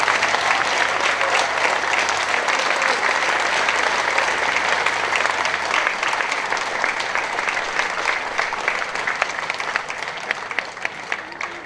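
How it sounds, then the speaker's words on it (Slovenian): Sustained, loud applause from an outdoor crowd at a political party committee gathering in Bovec, dense clapping continuing steadily for many seconds with a faint voice beneath. "predlagam en krepak aplavz za Danja in njegovo ekipo"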